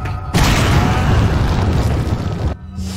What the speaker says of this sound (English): Pulling out Grenade.